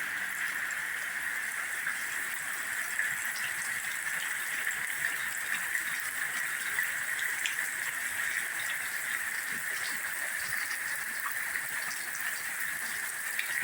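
Floodwater rushes steadily after heavy rain in Jaffna, a continuous hissing, gushing flow with no breaks, close and fairly loud.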